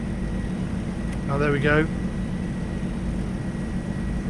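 A Wilga aircraft engine at full throttle during takeoff in a World of Aircraft glider simulator game drones steadily and evenly, with a brief spoken remark partway through.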